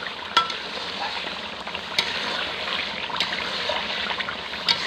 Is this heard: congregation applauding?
no